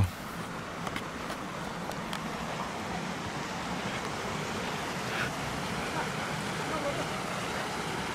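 Waterfalls in Yakutia roar as a continuous broadband rush of falling water, steady and fairly loud, with wind buffeting the microphone.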